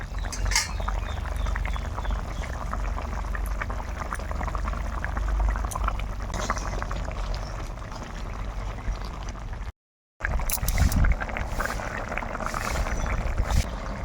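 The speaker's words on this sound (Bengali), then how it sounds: "জল খুব সুন্দরভাবে ফুটে গেছে এবার ভেজে রাখা মাছগুলো দিয়ে দেব" Water bubbles at a rolling boil in a pot for rohu fish curry, a steady, close churning broken by a brief gap before the fried fish pieces go in with a splashy stir.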